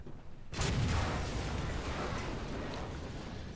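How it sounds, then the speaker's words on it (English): Artillery strike in the War Thunder ground forces simulator: a sudden heavy blast with a rumbling low boom that decays into a long, sustained roar of debris and distant fire. "so I decide to drop some artillery on some of them"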